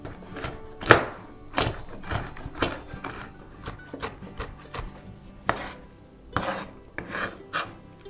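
Walnuts are chopped for a festive beef salad, a series of irregular crunching knife strokes on a board, close and moderately loud with no talk.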